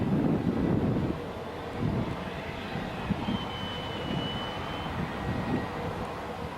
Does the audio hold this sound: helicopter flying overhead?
yes